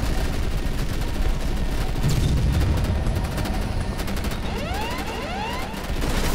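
Video game gunfire, a dense continuous rattle of rapid shots and booms at loud, close range, with a few short whooshing effects near the end.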